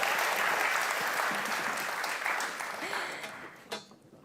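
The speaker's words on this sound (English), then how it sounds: "another round of applause for all panel members" Applause from a conference audience for panel members leaving the stage, a broad steady wash of clapping that swells and then fades out near the end, heard from within the room.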